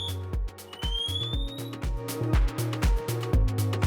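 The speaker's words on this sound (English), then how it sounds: "simply press the yellow center button on the AirBoss Sentinel to activate that pass alarm" Dräger AirBoss Sentinel PASS distress alarm going off, a loud repeating electronic tone pattern of stepped pulses with rising shrill sweeps, rhythmic and insistent, close to the device with no speech.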